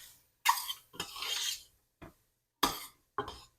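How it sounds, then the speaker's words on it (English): A spoon scrapes and stirs flour through melted fat in a soup pot, starting a roux for creamy broccoli and cheese soup; several short, close scraping and rubbing bursts separated by pauses, with no talking. "Give that a good mix to start your roux and cook for another 2 to 3 minutes"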